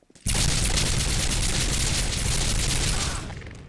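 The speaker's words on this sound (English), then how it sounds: "Laser assault rifle." A laser assault rifle fires a sustained rapid burst in the game Garry's Mod, a dense continuous volley of loud shots lasting about three seconds before tapering off, with no talk.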